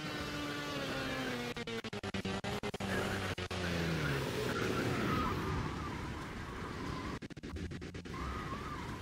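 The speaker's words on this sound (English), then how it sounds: "Those do not sound healthy," Small RC-scale cars in Kerbal Space Program, one having lost a wheel, whine and scrape with rough engine tones and skidding, the grinding scratches loud and continuous across the stretch.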